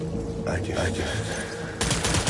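Gunfire in the video game Death Stranding, a dense burst of shots that breaks out loudly near the end of the clip after a stretch of busy game sound with a voice in it.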